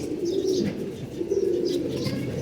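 A pair of pigeons, a khaki cock and a hen, cooing close by in two long, throaty rolling coos separated by a short pause, loud and clear with no talk.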